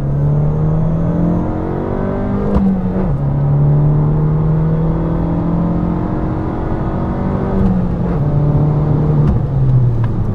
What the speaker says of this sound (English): Go ahead and watch the boost in sport mode.